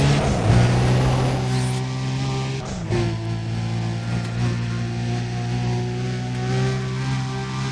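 A car engine in Need for Speed: Undercover holds a steady, loud drone with strong harmonics that rise and shift as it accelerates, continuous throughout with a brief dip partway.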